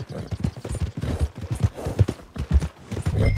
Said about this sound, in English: Take the horses to the stable.